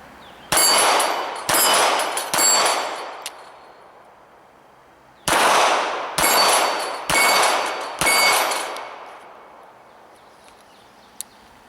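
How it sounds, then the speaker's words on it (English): A Sig Sauer P238 .380 pistol firing at steel targets outdoors, two strings of loud sharp shots, three then four, each ringing with a metallic clang that decays before the next, no talking. "let's go shoot some steel."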